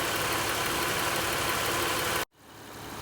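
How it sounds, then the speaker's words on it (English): A 2006 Honda Odyssey engine runs close by with the air conditioning switched on and the A/C compressor clutch engaged. The steady mechanical drone briefly cuts out, then resumes more quietly. "The clutch is engaged and the AC works."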